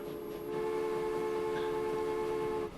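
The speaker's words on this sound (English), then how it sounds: "So we'll let the train go." A train sets off in the Transport Fever simulation game, a steady tonal horn or engine drone holding level for nearly three seconds before cutting off, loud and unaccompanied by talk.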